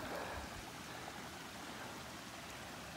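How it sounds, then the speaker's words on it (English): Water running down a hillside from a waterfall among redwoods in Humboldt County, California, a constant broad rushing wash heard nearby and fairly quiet. "There's water running into this thing from the hillside."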